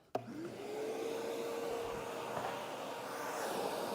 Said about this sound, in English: Thorough vac first.